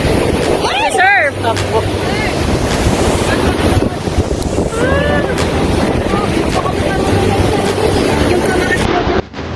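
Strong surf roars at Baler beach in Aurora, a constant wash of waves mixed with heavy wind buffeting on the microphone, while voices talk and shout over it.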